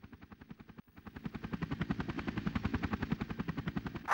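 A Chinook helicopter in the video game Army Men Air Attack 2 makes rapid, evenly spaced rotor thumps that build in loudness after a brief gap and continue as a steady chopping pulse.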